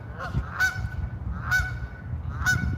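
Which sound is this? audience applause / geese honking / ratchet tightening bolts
geese honking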